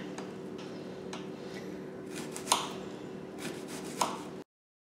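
A knife chopping a white onion on a board, with soft irregular taps and a couple of sharper knocks, close and fairly quiet over a steady background hum.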